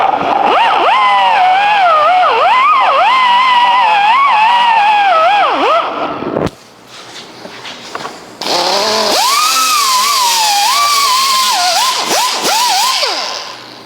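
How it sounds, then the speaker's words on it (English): Power tool fitted with a red Scotch-Brite pad grinding plastic heat stakes off a door panel, a loud continuous whine that wavers with the load, briefly drops off, then resumes. "I'm going to use just a red Scotch-Brite pad to try and take those off"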